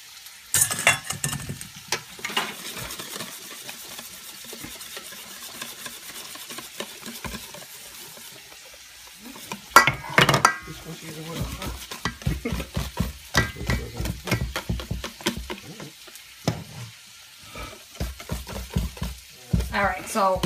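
Portuguese sweet bread batter being stirred as flour is mixed in, with steady close scraping and sloshing strokes of a spoon in a bowl, irregular and busy, broken by brief pauses and some faint talk.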